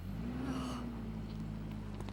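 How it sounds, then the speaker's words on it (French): A car engine hums low and steady, rising slightly in pitch as the vehicle rolls in nearby; no talking. "C'est la voiture de Sarah?"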